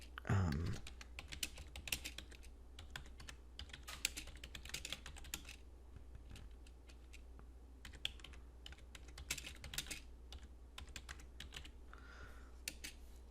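Light, quick typing of text on a computer keyboard, a quiet stream of clicks in uneven bursts close to the microphone.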